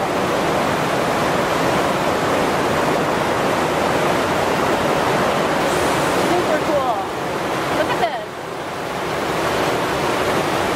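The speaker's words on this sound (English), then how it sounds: "It's like a little waterfall in a dam." A small underground waterfall in the Lost River cave pours and splashes continuously, a loud broadband roar filling the cave, with brief voices talking over it.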